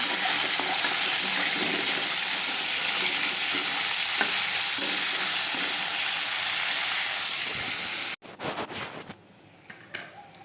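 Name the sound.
meat frying in oil for chicken chow mein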